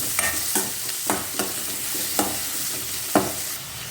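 Chopped onions frying in oil for rajgira palya, a steady close sizzle punctuated by regular scraping stirs of a spatula against the pan.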